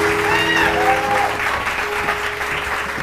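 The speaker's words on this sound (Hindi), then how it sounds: "अलीना के लिए बहुत सारी तालियां जी।" Studio audience applause on a Pakistani TV morning show: a steady, dense wash of clapping that lasts throughout, with faint tonal music underneath.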